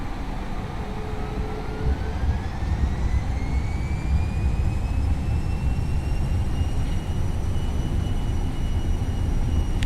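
IXEG 737-300 jet engines spooling to takeoff power in X-Plane 11, a steady loud roar with a rising whine that climbs and holds over the full stretch, continuous and close.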